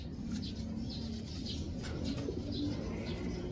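A pet pigeon that has come back home gives soft, low cooing calls in a quiet space, repeated in short murmuring phrases with faint chirps, heard close and alone.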